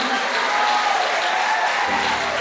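Congregation in a church applauding steadily, a dense, loud wash of clapping that fills the whole moment with no break.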